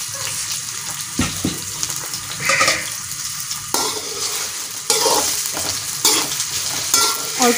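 Okra (bhindi) fries in a pan with a steady close sizzle, broken by repeated bursts of stirring and scraping throughout.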